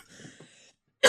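A single short, forceful cough bursts out at the end after a brief silence, preceded by quieter murmuring and background hum, in a comedic podcast about a sick person with a cold.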